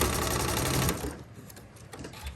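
A sewing machine stitching a seam on a zipper pouch at a short stitch length, a fast rattling whir for about a second that then slows and fades into quieter, intermittent needle clicks, close up and without talk.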